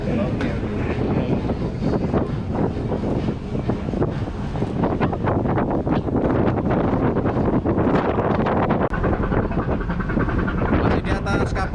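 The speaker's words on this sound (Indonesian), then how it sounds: "Anginnya kenceng luar biasa ini" Strong wind buffets the open deck of a ship at sea, bound for Poto Tano harbor: loud, continuous rumbling gusts batter the microphone throughout, with a rough, fluttering roar.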